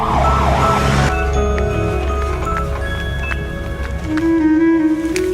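An ambulance siren wails loudly in a rising and falling sweep for about a second, then stops abruptly. Sustained tonal sounds continue afterward without speech.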